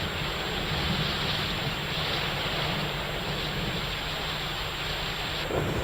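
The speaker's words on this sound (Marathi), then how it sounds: "लातूरमध्ये दोन दिवसांपासून या पावसानं हजेरी लावली आहे" Heavy monsoon rain in Latur, Maharashtra, pours down in a steady, dense roar with a low rumble underneath, continuous and loud throughout.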